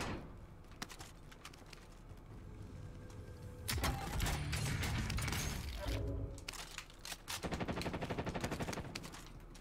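In a video game, bursts of rapid automatic gunfire crack in close, rhythmic volleys, broken by sharp single shots and short pauses. A final sustained burst rattles out near the end, with faint speech underneath.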